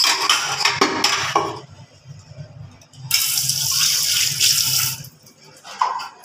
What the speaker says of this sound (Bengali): আমি স্যুপটা ঢেলে দিলাম